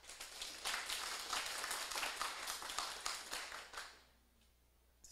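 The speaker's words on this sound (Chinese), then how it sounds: "我家己鼓掌一下啦" Dense, lively clapping from a seminar audience at a closing address fills nearly four seconds, then stops abruptly and leaves near silence.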